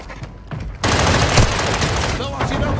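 Dense gunfire in Call of Duty Warzone 2.0, quieter shots giving way to a loud sustained fusillade of rapid automatic fire, with a voice speaking underneath.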